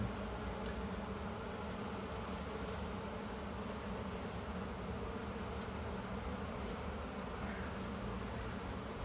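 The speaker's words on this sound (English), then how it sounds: "Okay, just smoosh some bees here." Honey bees buzz continuously at an open beehive during a hive inspection, a dense, even swarm drone filling the air at a low, steady level with no talking.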